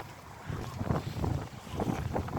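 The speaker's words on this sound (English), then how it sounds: "Same wind, it's howling on the stage" Wind rushing over open water while sailing a boat through a narrow passage, a steady buffeting roar with gusty rises and microphone wind noise, with no talk.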